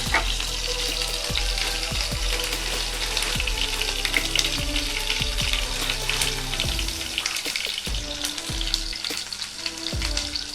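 Mustard seeds pop and crackle in hot oil in a pan as cumin and finely chopped green chili go in: a steady sizzle punctuated by sharp, irregular pops, close and continuous, with no talking.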